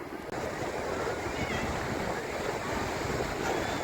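Waves washing steadily onto Muzhappilangad drive-in beach near Thalassery, a loud continuous roar of surf mixed with wind buffeting the microphone.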